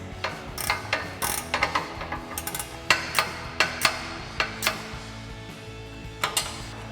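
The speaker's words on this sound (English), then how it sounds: "you will need a 16mm ratcheting wrench" 16mm ratcheting wrench clicking while tightening pivot bolts on a RedRock TCX HD front bumper for a 2016-2023 Toyota Tacoma, rapid close ratchet clicks in short repeated bursts with sharper metallic knocks between them.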